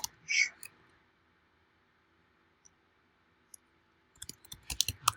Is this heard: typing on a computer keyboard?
yes